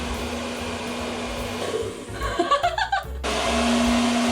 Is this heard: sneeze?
no